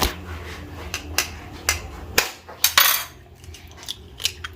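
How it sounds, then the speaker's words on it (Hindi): Sharp, clicky cracks of eggs being broken against a bowl for chicken nugget batter, a handful of distinct taps spaced about half a second apart, with small shell and bowl clinks in between and no talking. "2 अंडे तोड़ लेंगे"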